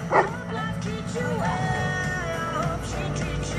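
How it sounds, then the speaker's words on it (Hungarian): A dog at a rescue dog club demonstration gives a sharp yip followed by whining, whimpering vocal sounds, close and clear over a background of outdoor crowd noise. "A Csaki 5 éves német juhász ordas kutya"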